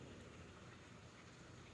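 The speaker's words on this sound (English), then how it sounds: "because it's raining" Rain falls steadily outdoors in a residential community on trash pickup day. The hiss is soft and continuous with no gaps and no voices.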